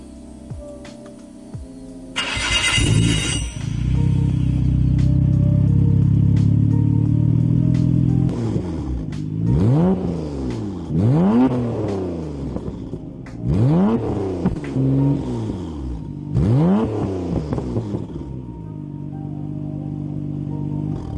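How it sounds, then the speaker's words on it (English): A Nissan Skyline R33 GTR fitted with a twin plate clutch idles with a clattering rumble, then is blipped through a series of sharp revs that rise and fall one after another, loud and close. "the first thing the most important thing that I had done in the car was getting the twin plate clutch, and I'll let you guys hear that right now"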